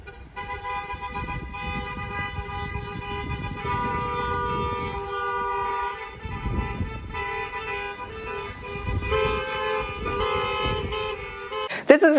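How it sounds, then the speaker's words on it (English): Car horns toot repeatedly and loudly during a wedding procession, sustained honking layered over traffic noise, with a sharp final blast at the end. "they all go crazy and they start honking like crazy because it's wedding time"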